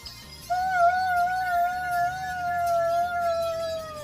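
A voice imitating an ambulance siren, holding a loud, wavering high wail that rises and slowly falls for several seconds, close to the listener with no other sounds.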